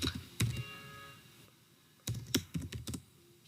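Quiet bursts of typing on a computer keyboard, a few quick key clicks, a pause, then another short flurry of keystrokes.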